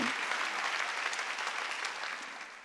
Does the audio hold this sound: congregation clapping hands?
yes